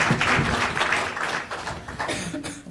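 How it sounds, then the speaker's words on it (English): An audience applauds after a pitch at a startup pitch competition: a steady wash of clapping from a crowd, moderately loud, with a little talk at the end. "give him another round of applause"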